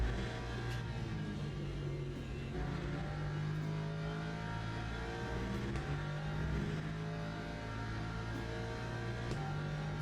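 A race car engine drones and revs steadily in the Le Mans Ultimate sim racing game, a continuous dense mechanical hum with slight shifts in pitch and no talking.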